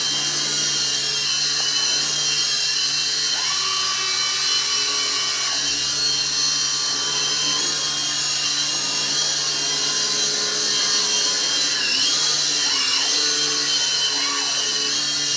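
A small beginner RC helicopter, the UDI model, flies nearby with a continuous high-pitched rotor and motor whine throughout, its pitch rising and dipping a few times as it manoeuvres, with no talk.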